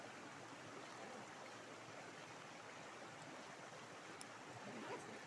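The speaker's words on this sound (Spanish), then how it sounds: "aquí escuchamos solamente el murmullo del agua" A stream murmurs steadily out in the countryside, a constant broadband rush of flowing water with no pauses, heard alone and fairly close.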